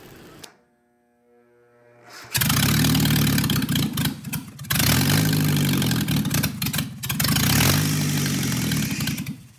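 A Nissan Datsun 720 engine running on only the stock exhaust manifold bursts into loud, rough, raw idle after someone speaks, holding a throaty drone with brief dips and surges close by.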